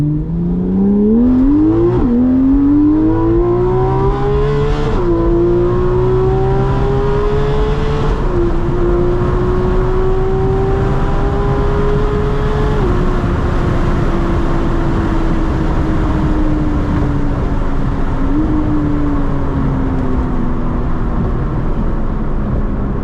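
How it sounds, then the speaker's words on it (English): A Porsche GT3RS sports car engine revs up through several gear changes, the pitch climbing, dropping at each shift and climbing again, loud and close, then settling into a sustained drone as the car drives on. "me and my guy Joe met up and he let me take his GT3RS for a spin"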